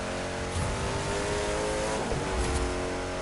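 Touring car racing in The Crew 2 video game, an engine droning at steady high revs with a couple of brief rises, continuous and fairly loud with no talk.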